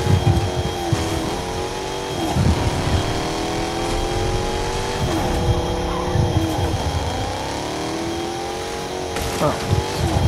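Cartoon car engine revving and racing in an animated scene, a continuous loud roar with rising pitch sweeps and a brief tire-squeal feel, heard beneath speech and other animated effects.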